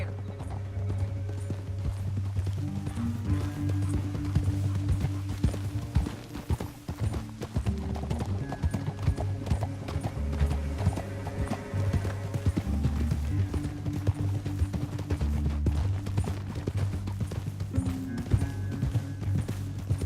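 Rapid hoofbeats clatter continuously as horses gallop in Red Dead Redemption 2, with a low rumbling musical backdrop throughout.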